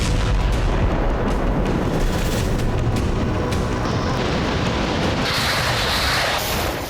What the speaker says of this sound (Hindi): देखिए किस तरह धमाके के बाद एक बड़ी शॉकवेव निकल रही है।